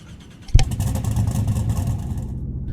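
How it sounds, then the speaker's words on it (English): A Hennessey Venom GT engine fires up in the Roblox game Southwest Florida, a sharp ignition burst followed by a steady rumbling idle that carries on to the end. "listen to this bad boy start up."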